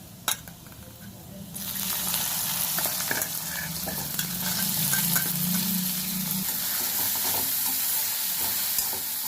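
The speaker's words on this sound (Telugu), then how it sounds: "ఇప్పుడైతే ఉల్లిపాయలు వేస్తున్నాను. ఉల్లిపాయలు సన్నగా తరిగి పెట్టుకున్నాను." Thinly sliced onions hit a hot pan and start frying with a sudden loud sizzle that stays steady and close, with stirring noises over it.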